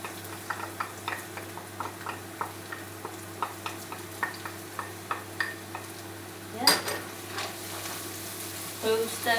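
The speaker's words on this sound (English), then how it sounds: "To stir fry this around couple minutes to let a good smell coming up." Garlic and ginger stir-frying in a little hot oil in a wok, a faint background sizzle broken by a regular series of light spatula taps and scrapes against the metal, with a louder clatter near the end.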